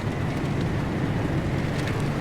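Steady wind whooshing through a forest in the Pacific Drive driving game, a constant low rumbling gust that sits near and fills the whole moment without pauses or voices.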